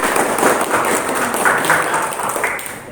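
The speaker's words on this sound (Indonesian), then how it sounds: "Tepuk tangan untuk kelompok" A classroom gives applause for a student group after its presentation, a brief, fairly loud spell of clapping from a small crowd that carries on steadily for a few seconds, with faint voices under it.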